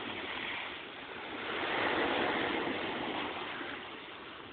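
Sea waves washing on the shore, a soft steady surf that swells gently and recedes, faint and unbroken with no voices over it.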